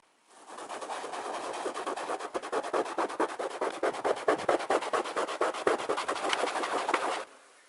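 A brush scrubs marker paint off a couch in fast, rhythmic back-and-forth strokes, close and fairly quiet, starting and stopping abruptly after about seven seconds.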